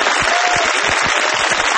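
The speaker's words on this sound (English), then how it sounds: "Let's have a round of applause for Liz." Studio audience applauding a quiz contestant, a steady burst of dense clapping throughout, close and fairly loud, with no talking over it.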